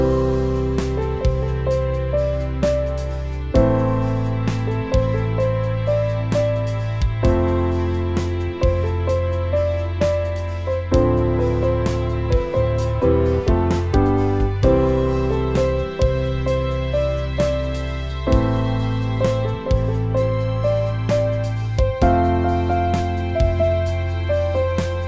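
Solo piano plays the chorus of a ballad: steady sustained chords with a bass line and a melody on top, all at an even, moderate loudness and with no voices.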